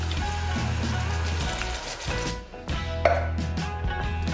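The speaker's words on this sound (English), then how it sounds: "now that our garlic is nice and fragrant, we're going to add 6 400 gram cans of diced tomatoes." Canned diced tomatoes pour and splatter into a pot of fragrant garlic for marinara sauce, a loud wet rushing slosh that thins out midway, then several more plops and drips, close up, with no talk.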